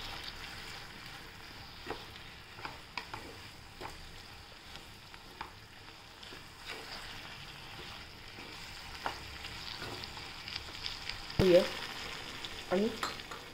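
Cluster beans with garlic sauté in a pan, a quiet, continuous sizzle with scattered soft scrapes of a spatula, and a few louder clanks of metal near the end, with no talk.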